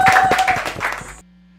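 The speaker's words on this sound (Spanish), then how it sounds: "Un aplauso para ellos." Audience applause for a band at a Zona Backline studio session, a dense burst of clapping with a steady tone running through it for about a second before cutting off abruptly into near silence.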